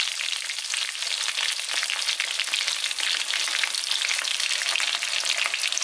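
Chicken pieces frying in hot oil for a traditional Kerala recipe, a dense, steady crackling sizzle that stays loud and close throughout with no voices.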